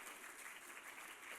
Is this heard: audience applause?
yes